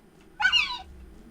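A single faint, wavering dinosaur call in a video game, brief and distant, rising and falling over a low ambient hum.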